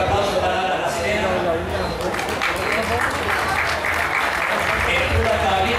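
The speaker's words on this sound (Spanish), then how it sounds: "un fuerte aplauso para la Serena" Sustained, dense applause from a crowd at a horse auction for La Serena, a steady wash of many hands clapping at moderate distance.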